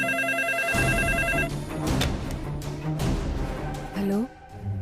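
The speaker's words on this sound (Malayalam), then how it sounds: "ആ ഫോൺ എടുക്ക." A telephone rings in a home with repeated electronic trills, while people talk over it and a short tone rises near the end.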